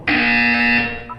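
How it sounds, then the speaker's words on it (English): A single electronic buzzer tone from the video game Portal 2 sounds loud and steady for about a second, then cuts off with a brief lower blip at the end. "When you hear the buzzer, look up at the ceiling."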